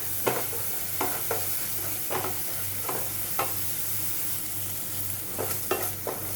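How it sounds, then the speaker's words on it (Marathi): Ground masala paste fries in a pan for raw jackfruit bhaji, a steady close sizzle broken by repeated scraping stirs of a spoon against the pan, with no talk. "आपलं वाटण पण व्यवस्थित असं फ्राय करून झालं आहे"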